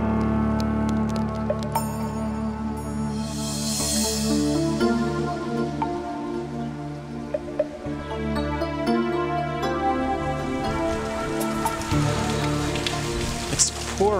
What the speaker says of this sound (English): It's pouring and it's cold.